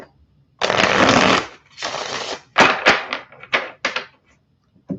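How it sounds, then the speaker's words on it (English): Tarot deck shuffled close by, a long riffle followed by several shorter bursts of card flutter and snapping, loud and alone before a pause. "Okay, cut the cards."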